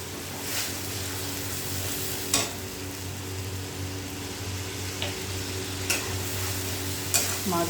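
Spice paste with whole cumin and whole garam masala sizzles in oil left over from frying fish, a constant crackle with a spoon scraping and tapping the pan several times, close up and without speech.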